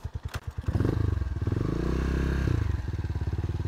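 A motorcycle's engine idles with a steady, chugging pulse close by on a trail. Scraping and clattering rise over it as the bike is pushed aside, and then the idle settles again.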